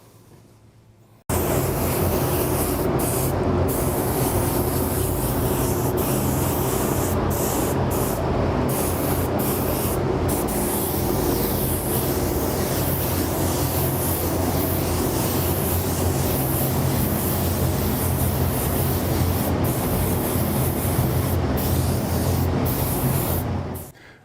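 Createx paint hisses in a steady, loud spray onto a Darth Maul model alongside an IG-11 figure, one continuous burst running almost twenty-three seconds without pause before cutting off.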